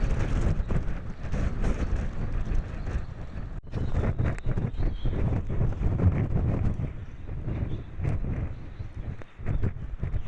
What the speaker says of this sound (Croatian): Puše, ali baš puše buretina, ono, muški.